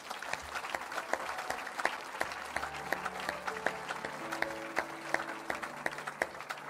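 A church congregation at a healing service in Evry claps steadily in acclamation of the Lord, a dense, continuous patter of applause carrying on throughout, with faint sustained keyboard or organ tones underneath.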